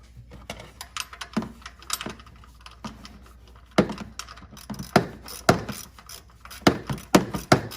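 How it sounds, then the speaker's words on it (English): A bolt being removed from the idler pulley of a GM Chevrolet truck, with a series of close metallic clicks and knocks in irregular bursts that grow louder toward the end. "So all you're gonna do is take this bolt out,"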